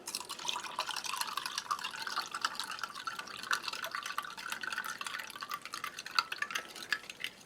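Water trickles and drips into a glass holding dark granular drink powder from a Dutch army 24-hour ration, a faint, irregular fizzy patter continuing for several seconds.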